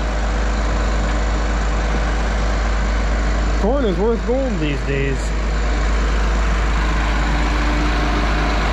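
Farm tractor idling with a steady low engine drone throughout, running beside a hammermill bagger on high moisture corn, while someone talks briefly over it partway through.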